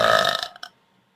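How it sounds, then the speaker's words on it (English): A single loud, drawn-out burp from a person attempting to burp the alphabet, rasping for about half a second and then trailing off into a short final gulp before silence. "Burp part of the alphabet"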